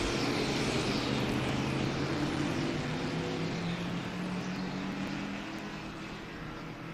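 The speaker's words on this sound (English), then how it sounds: "Here we go, up onto the front straightaway, getting ready to go green, and we're racing with historic Trans Am here at Sebring." Historic Trans Am race cars, including a Mustang and a Cougar, race down the front straightaway at Sebring, a loud sustained multi-engine roar with overlapping tones that gradually fades over the last seconds.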